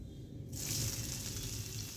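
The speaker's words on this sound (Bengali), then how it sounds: "এবার দিয়ে দিলাম সাদা জিরা কালো জিরা আর মৌরি মানে পাঁচ ফোড়ন দিয়ে দিলাম" Cumin, nigella and fennel seeds hit hot oil that already holds dried chillies and fenugreek. A sudden loud, hissing sizzle bursts in after a brief quiet moment and then holds steady and close.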